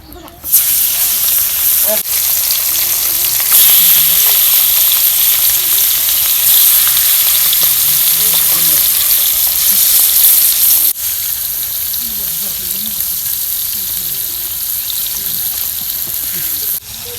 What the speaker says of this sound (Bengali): এদিকে আমি মাছ ভাজতেছি